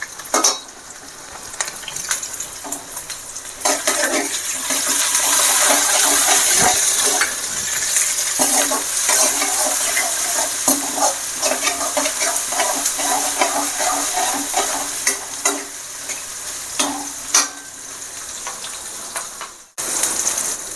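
Tomatoes stir-fry in a pan for a carrot and beans curry, a loud continuous sizzle broken by frequent spoon scrapes and clinks against the metal, dropping away briefly near the end before resuming.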